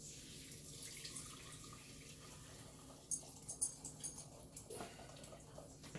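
Juices from a roasted chicken poured out, a quiet, close liquid trickle and splash with a few gurgling pulses after a stretch of faint background noise.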